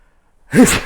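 A single short imitated sneeze, made by a voice, bursts out after half a second of silence and is loud and close.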